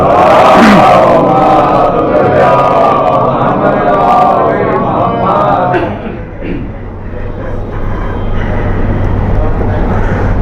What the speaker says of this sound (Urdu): ایک بار بلند آواز میں نعرے صلوات۔